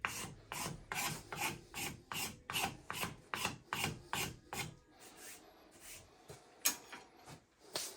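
Hand-carving wood into shavings with a blade, a steady series of about a dozen rasping strokes up close, then sparser, quieter scrapes toward the end.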